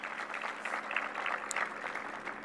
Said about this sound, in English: Oh, you should applaud, because they represent all of you,